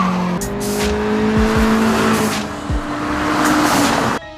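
Fiat with a 1.7-litre engine and BMW 320 with a 2-litre engine launching from a drag race start, loud engines revving hard with tire squeal and skidding, close and continuous.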